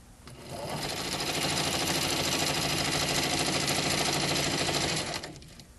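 A sewing machine runs at a steady, fast stitching pace for about five seconds before stopping, close and clear with no talking.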